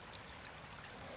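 Water drains along a ditch cleared of leaves up to a bridge, a faint, steady outdoor trickle and wash with no voices.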